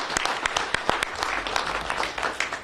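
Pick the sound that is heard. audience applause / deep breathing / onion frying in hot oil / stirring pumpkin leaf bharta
audience applause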